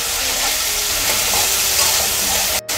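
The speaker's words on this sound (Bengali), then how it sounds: "সমস্ত মশলাগুলো আমি তেলের সঙ্গে একটু নেড়ে চেড়ে ভেজে নেব।" Ginger paste and dried chili paste frying in hot oil, a loud, steady, close sizzle and hiss lasting throughout, breaking off briefly near the end, with no speech.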